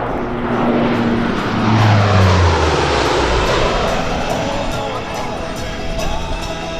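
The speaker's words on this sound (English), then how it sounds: "From the left, at 370 miles per hour, the Fat Albert flat pass." At a 2014 airshow at Quonset, Rhode Island, the Blue Angels' Fat Albert aircraft makes a low-altitude, high-speed flat pass at 370 mph, its loud engine roar sweeping past with a falling pitch before fading.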